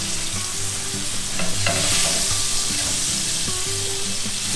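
A crappie fish fillet fries in a pan with a dense, continuous sizzle, loud and close, broken by a few soft clinks and a brief surge of crackle midway, no voices.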